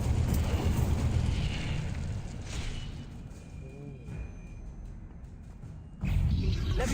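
An Incendio fire spell flares in Hogwarts Legacy with a loud whooshing roar that eases off over a few seconds into a softer sustained hiss. A faint tonal chime sounds in the middle, then a fresh fiery burst hits near the end.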